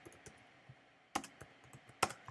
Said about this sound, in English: typing console.log post